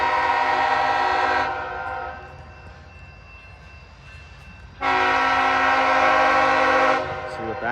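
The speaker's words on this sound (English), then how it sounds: "Here's the train getting close." A freight train passing a crossing at night in Plymouth, Michigan, sounds two long, loud horn blasts separated by a pause filled with rolling rail noise, and a voice briefly speaks.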